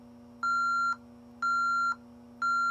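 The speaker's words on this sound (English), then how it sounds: "now I'm going to go ahead and activate the door contact" Honeywell/Ademco alarm system beeping as a door contact is triggered: three evenly spaced, sustained electronic tones about half a second each, clean and clear over a faint steady hum.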